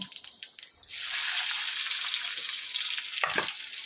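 Cumin and garlic drop into hot oil after a few light clatters, bursting into a loud, sustained sizzle that stays steady with occasional stirring scrapes.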